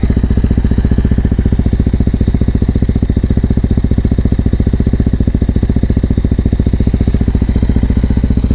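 A dual sport motorcycle fitted with a DG RST exhaust idles steadily with the choke in, a close, even low-pitched pulsing thrum that runs without a break and with no talk over it.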